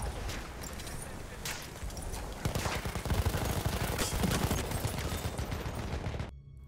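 Automatic fire from the SMG 08 Factory submachine gun in Battlefield 1, delivered in dense rapid bursts that grow louder midway and run nearly nonstop, backed by battlefield noise.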